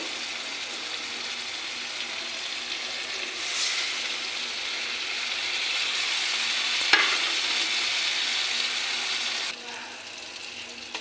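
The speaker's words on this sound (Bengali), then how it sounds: "এখন পুরনটা আমি ভালো করে কষে নিই" Spiced duck egg filling for a cauliflower dish stir-fried in a pan, a steady close sizzle with the scrape of a spatula stirring throughout and no talking.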